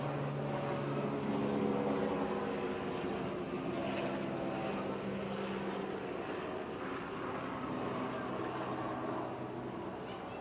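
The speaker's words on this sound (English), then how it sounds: "helicopter" A low, steady engine drone with a rotor-like rumble holds throughout, loud and continuous like a helicopter passing overhead.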